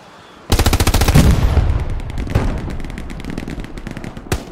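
Rapid bursts of WW2-era machine gun fire in the online shooter Hell Let Loose, loud and close, starting abruptly and hammering in a fast steady rhythm for several seconds, with a few sharper isolated shots near the end.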